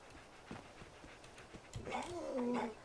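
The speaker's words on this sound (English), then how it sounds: "he's barking at a brick wall." A dog in a video game vocalizes at a brick wall: soft panting and snuffling, then a rising, wavering whine near the end, close and moderately loud with no talk.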